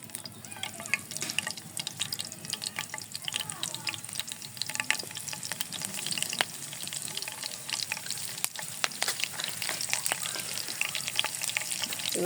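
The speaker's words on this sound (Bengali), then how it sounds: "তেল আমার গরম হয়ে গেছে, এখন দিয়ে দেবো মরিচ," Chili peppers drop into hot cooking oil and fry with a loud, continuous crackling sizzle and scattered sharp pops, close up and without any talking.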